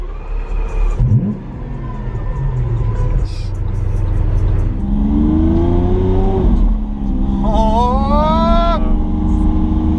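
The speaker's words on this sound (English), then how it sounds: "You can just tell it is rearing to go. Yeah, it really wakes up." A Lamborghini Aventador engine starts and revs up, rising through several climbing sweeps to a loud, close roar, with people talking over it.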